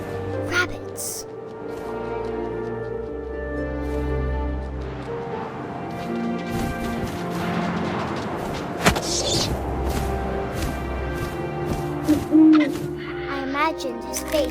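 An owl hoots in the video game What Remains of Edith Finch, a soft call set against wind-like ambience, game sound effects and a narrating voice.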